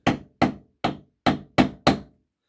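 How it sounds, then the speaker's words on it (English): A hammer strikes a dome round rivet setter on leather six times, sharp close knocks in an uneven rhythm with brief ringing decay, and no talking. "we're gonna use our dome round rivet setter,"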